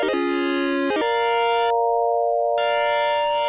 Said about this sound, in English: and a sort of pulse wave,